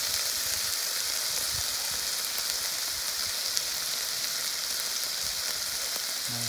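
Prawns, chilli, pepper and mushrooms frying in a pan, a steady, dense sizzle with crackling spits running throughout at close range, with no voices over it.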